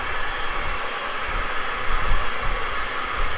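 A hair dryer blows steadily over wet paint, a loud, even, close-up rushing hiss with no break.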